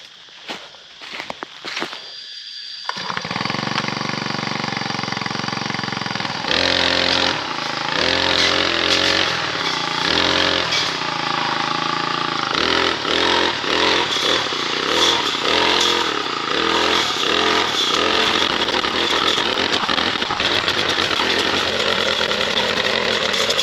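A gas string trimmer engine runs loud and close after a quiet start, its steady droning motor rising as the trimmer is worked through outdoor vegetation in a Thai village.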